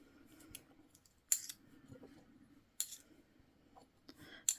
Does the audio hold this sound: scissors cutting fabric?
yes